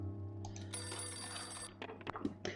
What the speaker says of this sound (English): The phone suddenly rang on the evening of September the 11th.